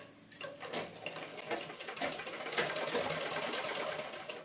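A sewing machine stitches small summer clothes for a Laddu Gopal idol, starting with a few quick separate bursts, then running in a steady fast chattering rhythm, close and fairly soft, with no talk.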